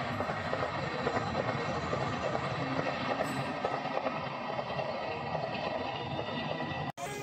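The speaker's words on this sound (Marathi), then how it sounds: "आमच्या इथून ही ट्रेन जाते" A train rumbles past steadily, its wheels clattering in a continuous loud roar that stays close for the whole stretch.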